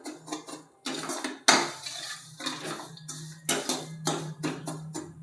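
Roasted vermicelli with ghee-fried cashews and almonds being stirred in a pan for seviyan kheer, a spoon scraping and knocking against the metal in uneven bursts of clatter, close and fairly loud.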